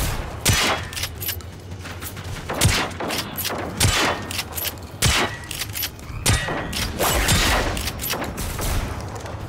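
Shotgun blasts boom repeatedly in Generation Zero, roughly a dozen loud, punchy shots at irregular intervals of about a second over a steady backdrop of combat noise, with no talking.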